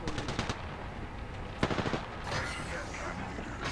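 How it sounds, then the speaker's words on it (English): Rapid bursts of video game gunfire, machine-gun style, rattle in short volleys with a sharp nearby shot midway, followed by a sustained noisy wash of combat sound. "Listen up, I'm getting shot at."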